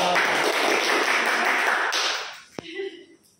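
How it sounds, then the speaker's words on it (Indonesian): A class claps for group 1: dense, fairly loud applause that lasts about two seconds, then fades, followed by a sharp single tap. "kasih tepuk tangan untuk kelompok 1"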